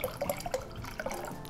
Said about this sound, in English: If you plan to use the machine's internal reservoir, you can simply fill it now.